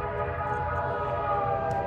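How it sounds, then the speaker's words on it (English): A train passes through the small town of Ely, Nevada, a steady low rumble with a sustained horn-like tone held throughout, moderately loud and without speech. "They got a train coming through town."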